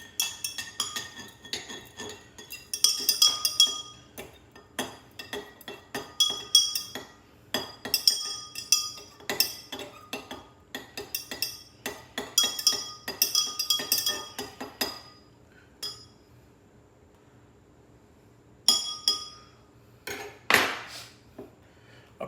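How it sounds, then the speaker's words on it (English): A butter knife stirring potassium hydroxide solution in a glass, giving repeated rhythmic clinks and scrapes of metal on glass in quick bursts, with short pauses and a few final taps. "I'll be using this butter knife, which was washed with acetone, to stir."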